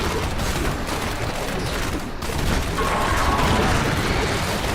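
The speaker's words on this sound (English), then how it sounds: "There's so many explosions." Explosions and rapid bursts of fire pile up in Diablo 3 combat, forming a dense, continuous barrage of booms and crackles with no pauses.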